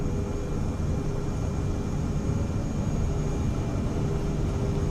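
A Cirrus Vision Jet engine during its takeoff roll in Microsoft Flight Simulator 2024, a steady, loud, even jet roar with a faint constant whine on top and no voices.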